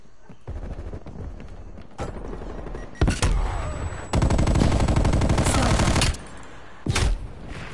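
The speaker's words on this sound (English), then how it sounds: "Oh, this thing has a good fire rate! Vara got good fire rate." Rapid automatic fire from the Vara gun in a video game, coming in loud, close bursts: several short volleys, one long sustained stream of shots lasting about two seconds, then a brief final burst.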